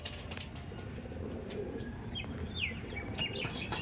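Andhra pigeons cooing at a pigeon sale, soft low coos under a constant dull background rumble, with a few brief chirps and clicks from other birds nearby.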